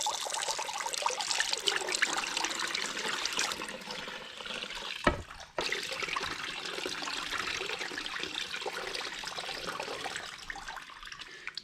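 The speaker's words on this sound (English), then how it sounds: "Just turn your water flow way the heck down." Water flows at a turned-down rate through a gold sluice box, a steady trickling wash with a brief clunk midway, then the flow continues alone.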